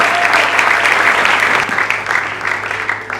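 A church congregation at an apostle's ordination service claps together in a dense, sustained burst of applause that fills the room, loud and continuous before tapering slightly.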